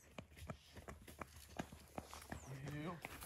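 A mare's hooves clip-clop on a rural farm property, a steady rhythm of hollow hoof strikes close by under Portuguese talk, with a brief bird squawk near the end.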